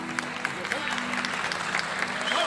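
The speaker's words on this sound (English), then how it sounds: "And a warm applause from the audience." Crowd applause at a boxing match, a dense wash of clapping at moderate distance, with a commentator talking over it throughout.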